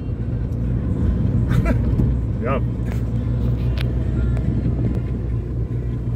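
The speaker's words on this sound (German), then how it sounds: "Auto läuft wieder, alles wieder in Ordnung." A car engine idles in a steady low rumble throughout, with a person speaking briefly over it.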